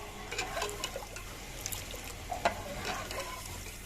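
Quiet trickling and splashing of water poured into a cooking pot for kadhi pakora, with small clinks, soft and close, steady for a few seconds without speech.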